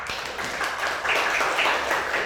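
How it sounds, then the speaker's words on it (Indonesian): Schoolchildren in an elementary classroom clap their hands together in a steady burst of applause lasting a couple of seconds, moderately loud and close, with no talking over it. "Tepuk tangan."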